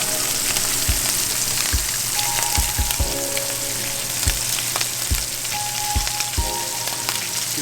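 Spaghetti squash crisping in oil in a pan, with a steady loud sizzle throughout and occasional soft knocks of stirring.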